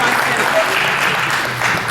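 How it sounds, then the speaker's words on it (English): Steady, dense applause from an audience at a memorial for a WWII Hellcat pilot, held at an air museum, a continuous wash of many hands clapping. "Now here we will have applause."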